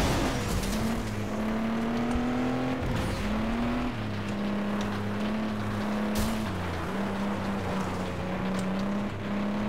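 A race car engine in the video game FlatOut 2 drones loud and steady, its pitch stepping up and dropping with gear changes, with faint tire scrubbing and no voices.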